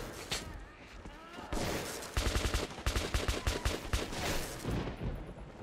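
Rapid bursts of automatic gunfire in the video game Metro 2033, loud, close cracks in quick succession over a rumbling game soundtrack, with a voice briefly talking.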